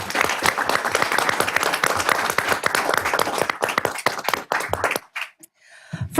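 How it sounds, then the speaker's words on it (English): An audience at a township board meeting applauds in a dense burst of clapping that thins out and stops after about five seconds, followed by a few final claps. "if you could please join me in giving her a round of applause"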